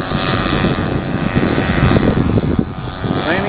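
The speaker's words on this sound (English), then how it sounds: "That big dual engine warbird going up." A large radio-controlled twin-engine German warbird model airplane climbs out at an air show rally, its engines giving a steady, loud propeller drone that fills the whole stretch without pause.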